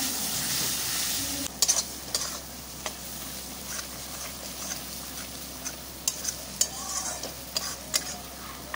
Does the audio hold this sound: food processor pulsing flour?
no